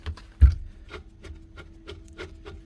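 Spindle of a Makita 3620 quarter-inch router turned by hand, its worn bearings giving a quiet, rough grinding rub in repeated short strokes, close up with one sharper knock early on.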